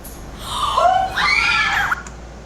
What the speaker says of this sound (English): The girls scream and run to another room.